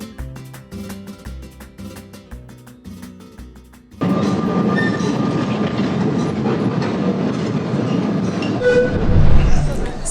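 A vintage tram rattles along the line to Sóller on Majorca, with steady loud rolling rumble and clatter starting abruptly, following a few seconds of rhythmic music.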